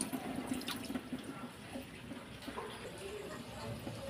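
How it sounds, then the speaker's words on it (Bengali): About one and a half cups of water pour into a pan while cooking a prawn curry, a faint steady splashing trickle with a soft background hum. "দেড় কাপ জল দিয়েছি"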